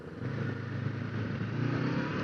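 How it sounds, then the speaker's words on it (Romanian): A Honda NX500 motorcycle cruises at higher speed toward a highway, its engine a steady, dense drone blended with rushing wind noise, with no talk. "Cum se simte motocicleta la viteze un pic mai mari."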